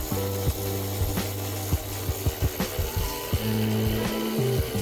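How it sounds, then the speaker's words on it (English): An 8mm socket tightening the battery hold-down on a 2020-2024 Ford Explorer, quick close ratchet clicks in short irregular bursts over a steady low hum. "Once it's in place, then we're going to use the 8mm socket to tighten it."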